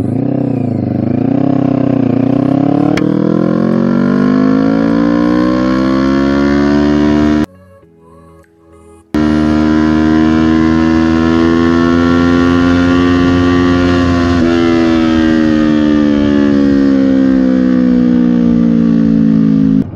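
A 2017 Kawasaki ER-6N twin-cylinder motorcycle with an SC Project exhaust accelerating hard in first gear, its loud engine note climbing steadily in a long rising pull, with a brief gap before it revs again.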